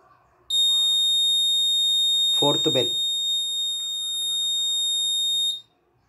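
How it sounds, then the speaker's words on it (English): An Arduino Uno R3 school bell system with a DS3231 real-time clock sounds its buzzer for the fourth bell: one steady, loud electronic tone lasting about five seconds, with a short burst of nearby speech partway through. "Fourth bell."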